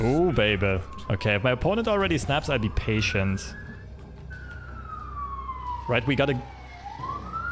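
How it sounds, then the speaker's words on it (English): An emergency siren outside wails in long rising and falling sweeps, moderately loud in the background, while someone talks over it in bursts. "Sorry about the sirens in the background."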